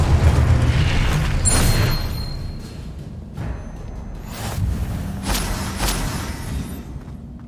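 A Confringo fire spell explodes in a video game, a loud booming blast with rumbling low end and a few sharp bursts, followed by further thuds and crackling impacts.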